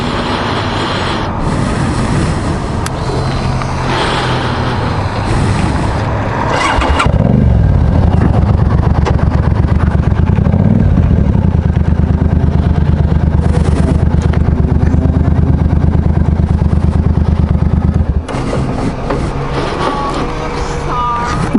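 A motorcycle starts and rides off, its loud engine droning close with wind rush, the steady roar shifting in pitch as it accelerates and cruises, briefly easing before picking up again.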